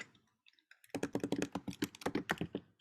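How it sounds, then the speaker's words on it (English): Rapid clicking keystrokes on a computer keyboard, close and crisp, beginning with a few scattered taps and then settling into a fast, continuous burst of typing. "I'll type in the brush guys."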